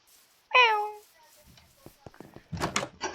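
A single short meow from a cat in Minecraft rings out clearly, followed by soft clicks, a brief rustle and faint muffled voices in the background.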